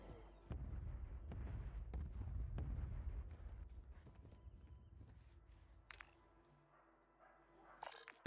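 Distant mortar fire in the battle-royale shooter Warzone, a few dull booming thuds and rumbles spread across a quiet stretch with faint game ambience.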